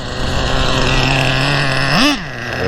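A nitro-powered Revo RC car engine running in a city park, a steady buzzing drone with one sharp rev that rises and falls near the end before settling back to a constant whine.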